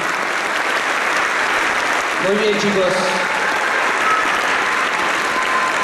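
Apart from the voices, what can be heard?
applause for the fourth-year students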